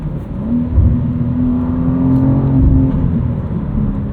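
A 2023 BMW M2 with a 6-speed manual blips its engine to match revs on a downshift, the pitch swelling and then settling over a steady, close cabin drone.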